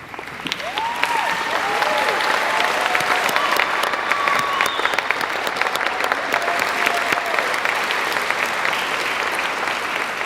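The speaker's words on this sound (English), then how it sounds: "Let's give them all a big round of applause" Dense, steady applause from a large audience at a high school graduation ceremony, rising quickly and holding for about ten seconds, with a few faint cheers early on.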